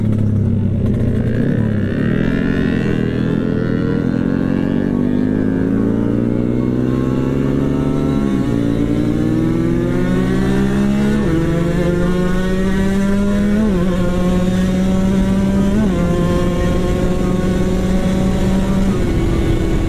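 A Kawasaki Ninja RR two-stroke motorcycle screams up through its gears, rising wails cut by repeated shifts into a sustained high-pitched rev, loud and close for the whole run with no talk.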